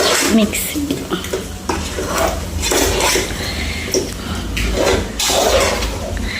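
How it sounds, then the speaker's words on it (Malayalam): Chicken masala for biryani being stirred in a pot, with continuous scraping and clinking of a utensil against metal, fairly close and steady throughout, with no voices over it. "നന്നായിട്ട് ഒന്ന് ഇളക്കി കൊടുക്കുക"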